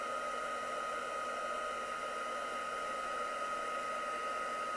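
A heat tool blows steadily while melting embossing powder, a constant close whooshing whir with a thin high whine and no voices.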